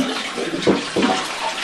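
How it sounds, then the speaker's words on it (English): Water pours and splashes from a removed toilet tipped back inside a bathtub, a steady rushing stream with two louder gurgling surges close by, no voices. "And discharge the water out of it."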